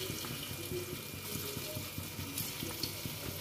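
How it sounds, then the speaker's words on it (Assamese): Chicken pieces coated in corn flakes fry in hot oil in a wok, giving a steady, close, crackling sizzle that carries on without a break and with no talking. "মই কেৰাহীত তেল গৰম হৈ গ'ল মই দি দিওঁ লাহেকৈ চিকেন কেইপিচ"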